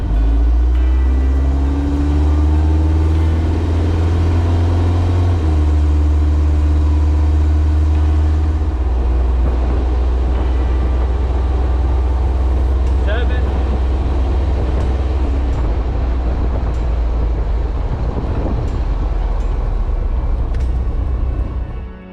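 A Kubota V2403 turbo diesel engine runs steadily up close with its wastegate blocked shut, a loud continuous low rumble with shifting pitch as it labours, under someone talking.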